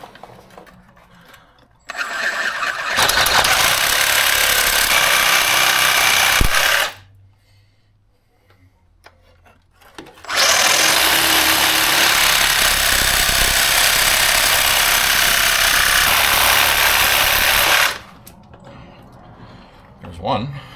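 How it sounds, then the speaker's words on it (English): Sawzall reciprocating saw hacking through steel suspension brackets during a 4-link install, two long loud harsh cutting bursts of roughly four and seven seconds separated by a pause, with faint sounds between. "so I'm going to try and hack these inside ones off here. The old Sawzall."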